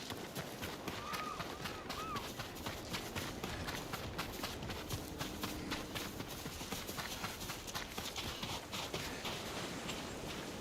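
Horses' hooves clip-clop in Ghost of Tsushima, a quiet, steady patter of hoofbeats mixed with soft ambient game sound, faint and continuous throughout with no voices standing out.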